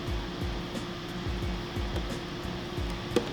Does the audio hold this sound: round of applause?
no